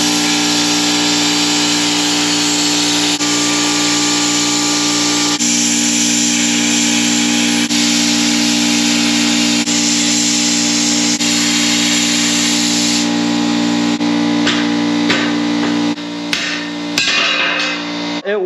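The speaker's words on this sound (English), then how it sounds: "It's still leaking out the bottom of that water separator, but it's not leaking off as fast as it was before." Compressed air leaks from the bottom of an air compressor's water separator with a loud, steady hiss. Near the end it is broken up by clanks and handling noises.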